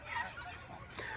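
Geese honk faintly beside a mucky, weedy planting area with willows and shrubs, a few short nasal calls rising over a steady outdoor background.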